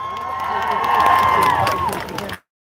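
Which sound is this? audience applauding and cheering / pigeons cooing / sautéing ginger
audience applauding and cheering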